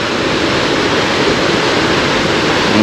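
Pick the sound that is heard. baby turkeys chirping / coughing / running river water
running river water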